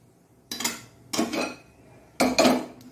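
A pan being set down in a home kitchen while making modak from rice and wheat flour, with three bursts of clattering dishes and cutlery, close and fairly loud, separated by short pauses.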